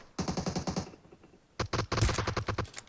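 Automatic rifle fire in PUBG Mobile, two rapid bursts of close, crisp shots in quick succession with a short gap between them, loud and sharp.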